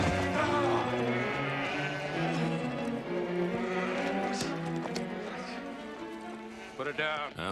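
Sheep on a ranch in a Western drama, bleating repeatedly with overlapping calls, beneath continuous loud talking.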